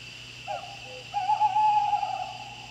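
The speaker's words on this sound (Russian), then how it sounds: "Кукушка? Нечасто эта птица бывает в городе." A cuckoo calling in the video game 1997, set in a city: a short hollow note followed by a longer, louder drawn-out hooting call over a quiet hum.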